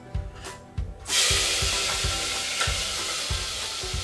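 Ginger dropped into already heated oil for an Indian mutton curry, bursting into a loud steady sizzle and frying hiss after a few brief clinks, with low rhythmic stirring or burner thumps beneath.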